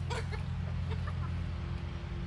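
Chickens cluck and murmur softly in a coop as new birds are introduced to an existing flock, with a few brief clucks over a steady low hum, nearby and fairly quiet, no talking.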